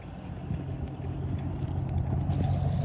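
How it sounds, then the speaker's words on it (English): Black HSV VF Clubsport R8 automatic with 88,195 km on it idles after a remote start, its exhaust giving a steady, deep, low rumble that holds even throughout with no voices over it. "So that's the sound of that exhaust system,"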